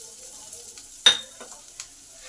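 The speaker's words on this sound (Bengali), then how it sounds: "এই সময় পেঁয়াজ কুচিটা দিয়ে দিলাম" Chopped onion drops into hot oil in a pan where garlic has been frying, giving a soft, steady sizzle with one sharp clatter partway through and a few fainter taps.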